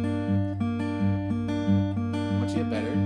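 Acoustic guitar fingerpicks a pattern slowly and evenly, single plucked notes ringing clearly over a sustained low bass note, alone and close.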